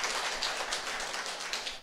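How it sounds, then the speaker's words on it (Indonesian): A church congregation at a Sunday service claps together in praise, a steady rhythmic stream of many hands filling the room, loud and continuous with no speech over it. "Kasih tepuk tangan lagi buat Tuhan Yesus"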